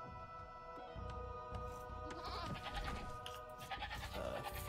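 Goats bleat repeatedly in a video game over a steady musical backdrop with sustained tones, the animal calls clear and moderately loud.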